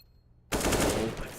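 A sudden burst of rapid automatic gunfire from a Counter-Strike: Global Offensive match erupts after a brief quiet, loud and sustained for about a second, without speech.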